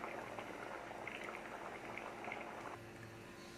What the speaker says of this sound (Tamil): ஒரு கொதி வந்துருச்சு